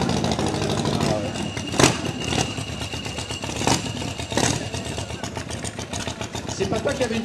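A motorcycle engine revs and idles, with sharp throttle blips standing out over steady engine noise and clatter, and French-speaking voices talking in the background.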